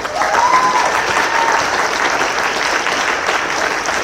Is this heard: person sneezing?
no